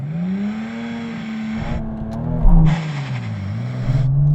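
A Toyota Supra Mk4 TRD launches hard, its engine revving and bogging as the note drops and recovers, close and loud with no talk.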